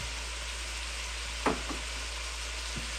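Garlic, onions, carrots and celery fry in a pan as a steady, close sizzle hisses on, with a brief clatter of stirring midway and a faint knock near the end.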